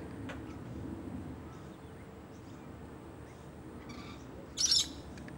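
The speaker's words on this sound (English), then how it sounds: "It's a type of honey eater that the Australians called a noisy miner." A noisy miner, an Australian honeyeater, gives one brief, sharp call near the end, standing out over faint outdoor background hiss.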